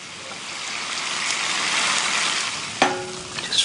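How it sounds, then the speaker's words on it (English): Gyoza in a hot pan finished with corn flour water and sesame oil, a loud steady sizzle that swells and hisses, with a sharp clatter of the pan near the end. "And now I just finish off the gyoza with a mixture of corn flour and water and add a little sesame oil."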